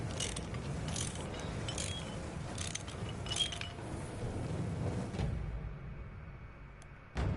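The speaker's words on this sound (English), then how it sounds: "it's doing the repairing noise." A tank repairing in a video game: continuous mechanical whirring and ratcheting, like gears and pulleys turning, steady for several seconds before thinning out and ending with a short clank.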